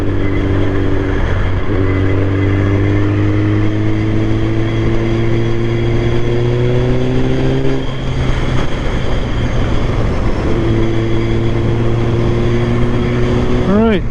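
A Kawasaki Ninja ZX9R's engine pulls hard and rises in pitch through the gears on a Fife coastal road, with steady wind roar and someone talking over the ride.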